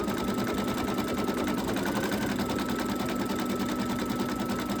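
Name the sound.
embroidery machine stitching a flip-flop design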